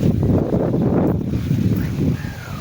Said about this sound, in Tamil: காற்று நல்லா அடிக்குது பாருங்கள்.